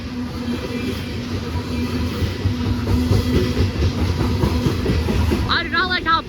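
Norfolk Southern freight train of hopper cars passing close by, a loud continuous rumble with rattling and clanking from the shaking hoppers, and a brief squeal near the end.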